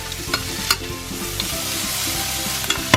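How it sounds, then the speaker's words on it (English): Onion, a cinnamon stick and star anise fry in about a tablespoon of sesame oil in a pan, a steady sizzle with occasional clacks and scrapes of a utensil stirring, no talking. "we will put in roughly 1 tablespoon of sesame oil, and we will put in the spice, which is the cinnamon stick and also the star anise, and we'll continue frying"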